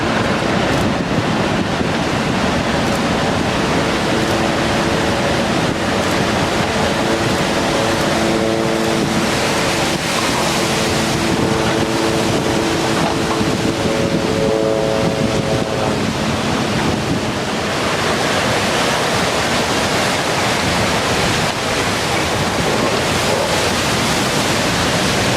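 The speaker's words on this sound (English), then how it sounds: "In shallow water, these waves can surge to heights of up to 50 meters." Huge ocean waves surging toward shallow water, a loud, continuous roaring surf with heavy wind buffeting the microphone and faint tonal hums mixed in, no voices.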